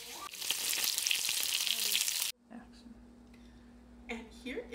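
Loud, dense sizzling of chicken frying in a pan, which cuts off abruptly into quieter room sound with a low hum and a few faint clatters.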